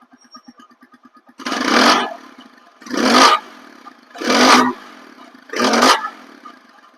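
A second-hand TVS Apache RTR 4V motorcycle in fresh, good-running condition, its engine ticking over near the microphone and then revving loudly in four separate throttle blips, each settling back to a quiet idle.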